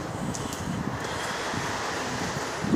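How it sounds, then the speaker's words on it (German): Steady wind rushes and buffets across the microphone, a continuous broad hiss with no voices, echoing faintly in a deep underground subway station in Essen, Germany. "Das ist einer der tiefsten in Essen. Schön windig, herrlich."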